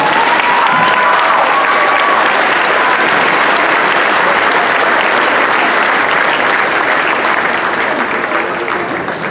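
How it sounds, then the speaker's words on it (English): Audience applause for a junior high school band at a school band concert, a dense, steady wash of clapping filling the room for several seconds with a few voices cheering within it. "Another round of applause for them."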